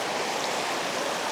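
The Gayong-Gayong River flows with a dense, steady rushing hiss, close and continuous, with no voices over it.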